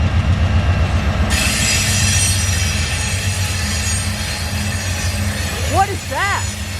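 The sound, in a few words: ex-BNSF EMD SD40T tunnel motor locomotive hauling freight train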